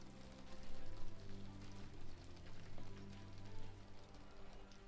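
Steady rain falls in the video game Sherlock Holmes The Awakened, a continuous soft hiss of drops with a low background hum and no voices.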